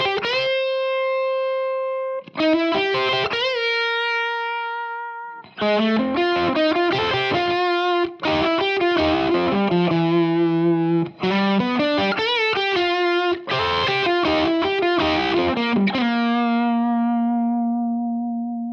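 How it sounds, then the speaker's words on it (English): Distorted electric guitar plays a melodic solo alone with no backing track, sustained bends and held notes between quick runs, loud and close with effects-laden tone and brief pauses between phrases. "I'm going to play through the solo again without the backing track, but the whole thing"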